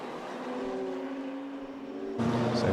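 GT Cup race cars at Brands Hatch in a sprint race, engines droning steadily with a sustained tonal whine that swells louder near the end as a car closes in, no talking.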